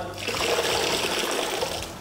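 Liquid is squeezed out of a foam applicator during car interior cleaning, a short wet squelching gush that rises quickly and lasts under two seconds, fairly close and moderately quiet.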